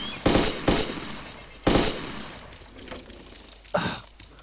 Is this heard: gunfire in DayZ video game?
yes